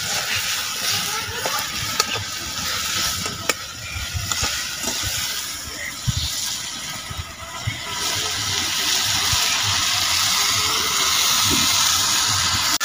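Water poured into a pot of fish curry with potatoes and spices cooking over heat, a steady hissing sizzle and splashing pour that grows louder and fuller toward the end, no talk.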